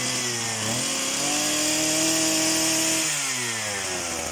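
A motorized brush cutter runs alone and loud, its two-stroke engine whining steadily then dropping and revving back up in pitch.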